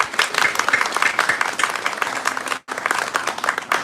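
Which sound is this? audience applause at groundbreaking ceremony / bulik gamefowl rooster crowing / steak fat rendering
audience applause at groundbreaking ceremony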